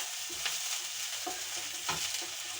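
Onions fry in oil in a pan for onion dosa, a steady close hiss of sizzling broken by a few soft stirring scrapes, with no talking.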